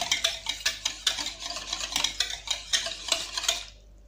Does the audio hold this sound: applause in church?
no